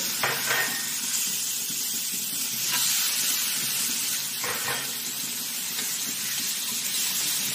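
Vegetables fry in oil in a pan with a continuous hissing sizzle, broken by a few soft stirring scrapes, close and moderately loud, with no talking.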